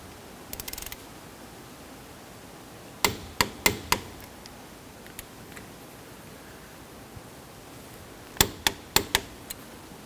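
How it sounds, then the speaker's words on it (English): A torque wrench tightens front brake caliper bolts on a 2006-2014 Honda Ridgeline, giving two quick clusters of sharp clicks a few seconds apart, close and crisp over quiet garage background. "We're going to torque down our caliper bolts to 58 foot-pounds"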